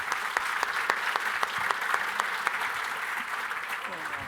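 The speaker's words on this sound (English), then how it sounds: "Round of applause." An audience at a live comedy show in Lisbon claps steadily after a guest is introduced, with sharp individual claps scattered through a fairly even, moderately loud applause that carries on without talk.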